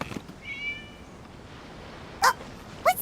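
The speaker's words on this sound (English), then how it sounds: "It was just a cat." Cat meowing in the Genshin Impact video game, a short soft mew early on followed by two brief, sharp meows near the end, fairly quiet against a low background.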